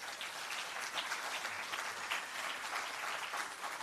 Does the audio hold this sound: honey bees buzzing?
no